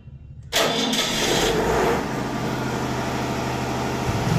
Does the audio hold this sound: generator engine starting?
yes